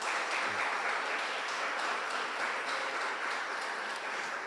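A church congregation applauds during a sermon, a dense, steady wash of clapping sustained at even loudness throughout with no gaps.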